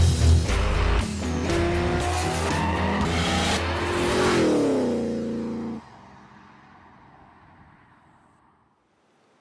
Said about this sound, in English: we're at Willowbank Raceway and we're racing the Crown.